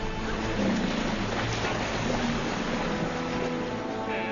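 Fast-flowing river water as buffalo cross, a loud continuous rushing and churning wash with no pauses, filling the whole stretch without any voices.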